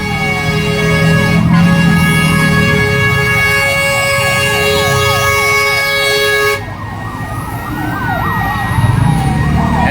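Fire engine sirens wail loudly and nearby as fire trucks respond one after another, overlapping rapid yelping and rising-falling tones with engine rumble, the pitch patterns shifting as one truck passes and the next follows.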